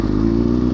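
A Kawasaki ZX6R 636 sport motorcycle with its neutral safety switch bypassed sits at a steady, loud idle up close, and a brief clunk as it drops into gear barely stands out from the engine's drone.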